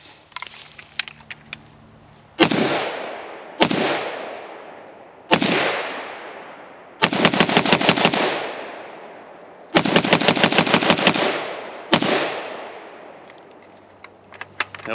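An HK G36 rifle fires six loud, sharp shots or short bursts close by, each with a sharp crack and a decaying echo, spaced unevenly over the clip with quiet gaps between them.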